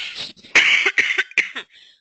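A few sharp, close coughs in quick succession, harsh and breathy, followed by a brief quiet trailing sound.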